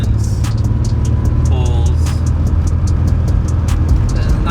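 A car fitted with a swapped Nissan VQ35DE non-RevUp V6 drives along, its engine and road noise forming a steady loud low drone with faint clicks and brief tonal whines above it.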